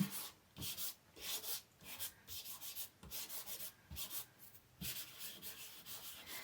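Soft, scratchy rubbing of chalk across paper in quick back-and-forth strokes, with short pauses between bursts, quiet and close.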